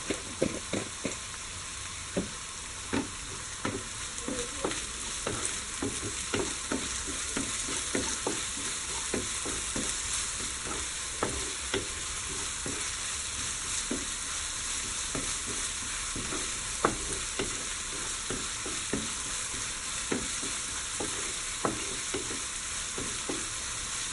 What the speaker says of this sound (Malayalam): പെട്ടെന്ന് വഴന്ന് വരാനായിട്ട് ഒരിത്തിരി ഉപ്പ് ചേർത്ത് കൊടുക്കുക.